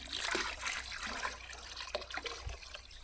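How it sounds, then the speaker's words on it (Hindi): Liquid pours and splashes steadily as cow urine goes into a container of water for organic wheat seed treatment, a continuous close trickle and slosh with no talking. "अब हम हमारे 20 लीटर पानी के अंदर 5 लीटर गौमूत्र डालेंगे"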